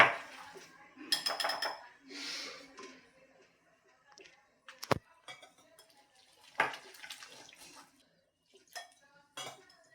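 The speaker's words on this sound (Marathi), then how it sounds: "अशा पद्धतीने विजचा वापर करून आपल्याला गुठळ्या मोडत मोडतच हे पीठ मिक्स करून घ्यायचं आहे" A whisk works gram flour and yogurt batter for dhokla in a bowl, giving intermittent metallic clinks and scraping strokes with short gaps and one sharp knock midway.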